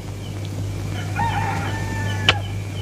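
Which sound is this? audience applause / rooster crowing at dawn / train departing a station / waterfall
rooster crowing at dawn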